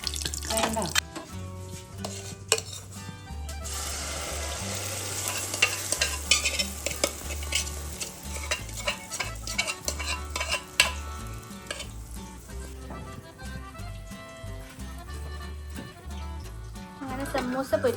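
Samosas fry in hot oil in a home kitchen, a continuous sizzle with stirring, clinks and running water, while people talk nearby.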